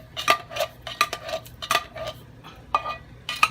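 Chicken condensed soup is scraped out of a can into a cooking pot with a utensil, giving a series of sharp metallic scrapes and clinks in an irregular rhythm, close and fairly clear with no one talking.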